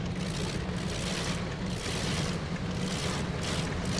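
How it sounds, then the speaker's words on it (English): A propeller airplane engine roars in the video game Crimson Skies as a dense, continuous drone, loud and unbroken throughout with slight surges in intensity. "Doesn't sound like this plane's very happy about it."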